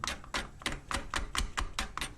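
A seized clutch slave cylinder on an Alfa 156 2.5 V6 takes about ten quick, sharp metallic taps from a hammer, evenly spaced and fairly faint.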